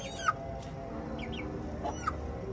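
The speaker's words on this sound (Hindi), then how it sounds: "मुर्गे देखे हैं, कैसे लगे हैं?" Chickens of a Chinese breed clucking in a farmyard, a few short soft clucks and chirps scattered over a low background hum, close but fairly quiet, with no talking.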